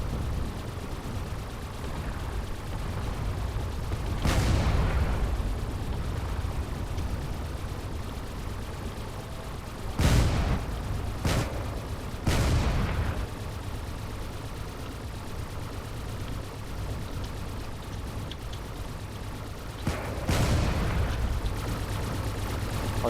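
Rapid auto cannon fire pounds against armored targets in the Drone Wars video game, a steady rumbling barrage with several sharper bursts and sweeping whooshes standing out near and loud, no voices present.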